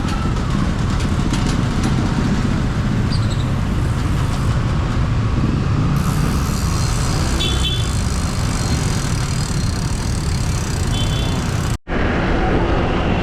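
Steady road traffic in Parañaque on a ride toward Tagaytay: continuous broadband rumble of cars and engines passing nearby, with a brief dropout near the end and no clear talk.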